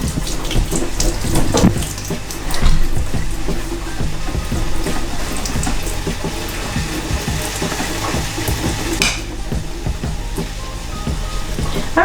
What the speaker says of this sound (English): we'll go ahead and strain the excess vegetable broth